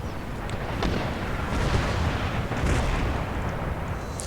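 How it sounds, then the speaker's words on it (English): Mortar batteries firing during a siege of Madrid in the strategy game Empire: Total War, heard as a continuous rumbling barrage of muffled booms with several sharper blasts layered over dense battlefield noise. "we can hear the sound of those mortar batteries still"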